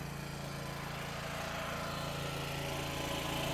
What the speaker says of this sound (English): Probably shut that generator off so you guys ain't listening to that.